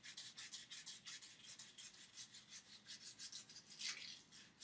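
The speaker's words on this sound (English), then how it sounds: "Now that I've sanded it smooth" Light-grit sandpaper rubbing along a wooden wand in quick, steady back-and-forth strokes, a close, soft rasping rhythm with no voices.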